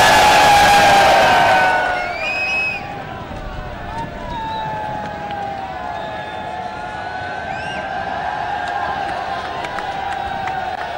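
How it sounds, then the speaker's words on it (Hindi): A crowd at a Pakistan Muslim League (N) political rally in Okara cheers and applauds loudly at first, then fades into a steady crowd murmur with distant whistles. "भरपूर तालियां और शोर होना चाहिए"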